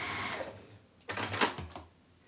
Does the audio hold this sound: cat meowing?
no